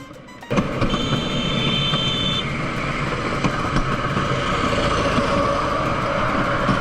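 A jungle rail cart in San Cipriano, Colombia, rattles and roars along wooden planks. Loud and close, it runs as a constant rumbling clatter with a brief high whine early on. No one speaks.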